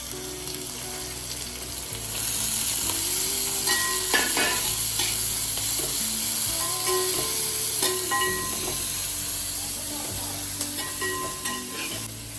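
Onion, ginger and green chilli sizzle steadily in a hot pan for an Onam sadya ishtu, a constant close frying hiss with occasional stirring scrapes and clinks of a utensil.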